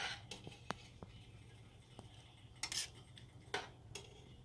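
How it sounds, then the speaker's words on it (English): Golden rice is stirred in a pot for Mexican-style chicken soup with rice, a quiet scrape and clink of utensil against metal repeating in scattered taps over a low background hum, with faint voice nearby. "So I'm going to go ahead and give it a nice stir."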